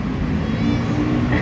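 A cat on the streets of Jakarta meows close by, one drawn-out call over steady outdoor background noise.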